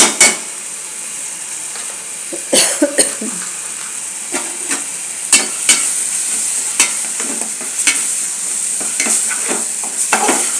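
Turmeric is stirred into food sizzling in a pan: a constant frying hiss broken by repeated scraping and clinking strokes of a utensil against the metal.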